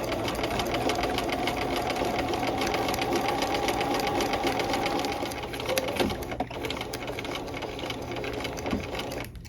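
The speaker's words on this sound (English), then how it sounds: "we can now start stitching" A sewing machine runs steadily, stitching fabric with a long stitch while setting a sleeve. Its fast, even mechanical whir carries close and continuous, then slows briefly near the end.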